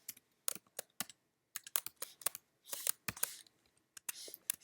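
Fingers tap out Java code on a computer keyboard in quick, irregular bursts of crisp close clicks, with short pauses between runs of keystrokes and no talking.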